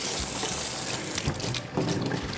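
Cold tap water runs steadily over jujubes being rinsed in a kitchen while preparing rice cakes, a close, continuous splashing flow.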